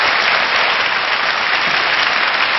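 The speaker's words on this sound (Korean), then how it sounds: "다시 한번, 부인과 또 그리고 아드님한테 박수 부탁드리겠습니다." A studio audience at a lecture show applauds a speaker's wife and son, a dense, loud, even wash of clapping that holds steady for the whole stretch without any speech.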